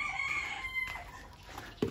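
Hens in a backyard coop at feeding time give a short, drawn-out crowing call up close, ending in a brief, sharp squawk.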